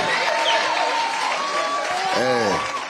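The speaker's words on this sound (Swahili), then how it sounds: "Makofi, makofi." A crowd applauds and cheers at a gathering with people living with disabilities in Nairobi City County. The clapping is dense and steady throughout, with a voice heard over it near the end.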